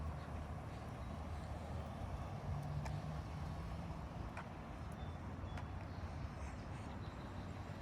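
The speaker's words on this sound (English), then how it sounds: "All new Dunlop all-season tires in action." A Toyota Corolla on new Dunlop all-season tires rolls along the road, producing a low, steady tire and road rumble with some wind noise from inside the cabin, quiet and even throughout.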